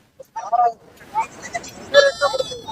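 Kodi goat kids bleat at a livestock market in Kunnathur: several short, close bleats come one after another while people talk nearby.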